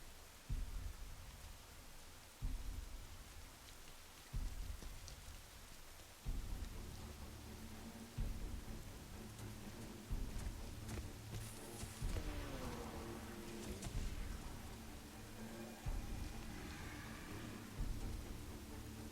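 Steady rain falls in the video game Rain, a dense continuous hiss of drops with a low rumbling undertone and faint periodic thuds, with no talking.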